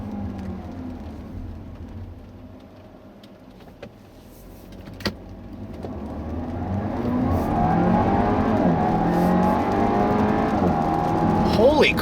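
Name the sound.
Audi car with 2-liter turbo engine and 7-speed dual clutch accelerating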